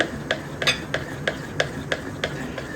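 A spoon stirs nylon khaman batter that has rested ten minutes, giving regular light scraping taps against the vessel, about eight evenly spaced strokes close by with no talking.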